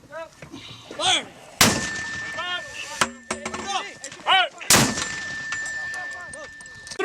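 An M777A2 howitzer fires two heavy booming rounds a few seconds apart during a U.S. Marine and Australian Army live-fire exercise, with crew voices talking and calling between the blasts.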